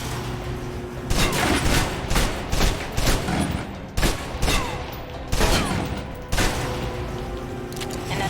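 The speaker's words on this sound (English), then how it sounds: "If you're trapped in close quarters with multiple opponents, the SMGs can help clear the room quickly" Submachine gun fire in a video game, loud repeated bursts of rapid shots separated by short pauses.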